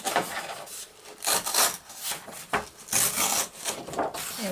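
Paper being torn by hand for a junk journal page, a few rough ripping strokes in quick bursts, close and fairly loud with no talking.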